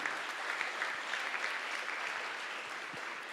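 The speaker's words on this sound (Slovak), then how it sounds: "Dajme im potlesk." An audience at a hackathon finale claps continuously, creating an even, sustained wash of applause that fills the room without pause.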